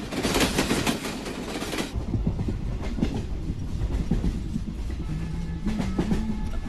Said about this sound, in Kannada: ಟ್ರೈನ್ ಬಂತಂತ ಬಂದ್ಬಿಟ್ಟೆ